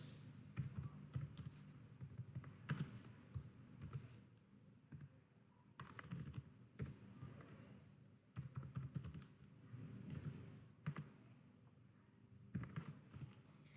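Fingers type steadily on a computer keyboard, with quick clusters of key taps and brief pauses, close but faint, and no talk.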